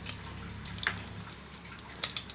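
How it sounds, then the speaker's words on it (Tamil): Cooking oil, about 60 ml, trickles into a hot pan for chicken biryani. Small wet drips and splashes are scattered over a quiet background, with no talking. "இதுக்கு 60 ml ஆயில் ஊற்றிக்க போகிறோம்."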